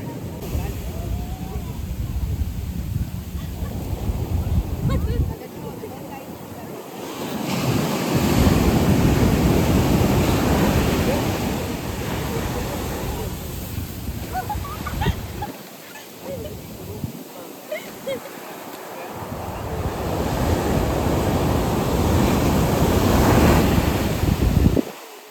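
Sea waves surge in and wash ashore in repeated swells, with gusty wind buffeting the microphone between the louder rushes.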